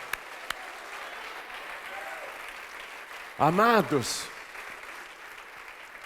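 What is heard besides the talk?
congregation applauding in church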